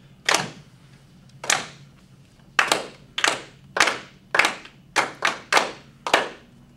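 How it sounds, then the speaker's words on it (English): A classroom of children claps a rhythm together in unison: about ten sharp, close group claps in an uneven pattern, with short quiet gaps between them. "And I want this half of the class to clap number 2."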